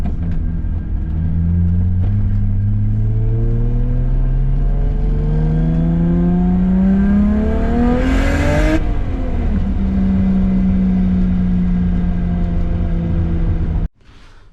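A BMW E90 with an N54 engine converted to a single turbo, set up as a drift car, pulls hard through the gears: a loud, close engine note climbing steadily, a brief shift, then climbing again before cutting off abruptly, with no talking.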